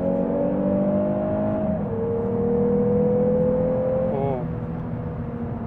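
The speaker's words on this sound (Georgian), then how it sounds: "დამატებით უშვებს ძრავის ხმას" A Lexus RC 350 F Sport plays a synthetic engine sound through its cabin speakers: a steady, loud droning hum that drops in pitch twice, like easing off the throttle.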